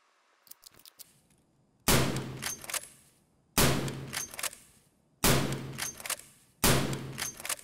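Bolt-action rifle in the Escape from Tarkov video game fires four loud, sharp shots spaced about two seconds apart, each with a ringing tail, after faint clicks of working the bolt.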